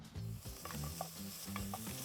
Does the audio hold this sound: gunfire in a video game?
no